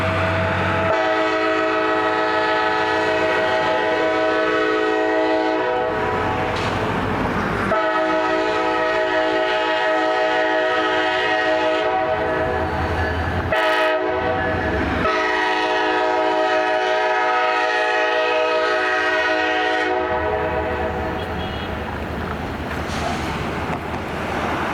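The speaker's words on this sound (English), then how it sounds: "you can see R.J. Corman GP40-2 3001 approaching the crossing" An R.J. Corman GP40-2 diesel locomotive passes a busy four-lane highway level crossing with a loud, sustained engine roar and rumbling railcars, plus a blaring horn.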